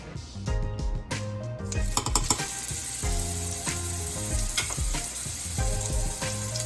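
Stuffed plantains fry in a skillet with a steady, close sizzle, broken by light clinks and scrapes of a utensil against the pan.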